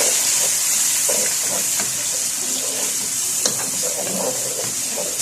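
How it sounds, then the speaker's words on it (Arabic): Two finely minced onions and chopped green pepper fry in hot oil while being stirred, a steady dense sizzling hiss with scattered soft clicks and scrapes from the stirring. "هنزل بيه كده على البصل بتاعي، انزل بيه قصدي على الزيت وهقلب"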